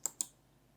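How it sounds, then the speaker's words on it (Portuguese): Two quick, light computer mouse clicks about a sixth of a second apart, faint and close in a quiet room. "nós vamos clicar com o botão direito e nós vamos clicar com Edit with Notepad++"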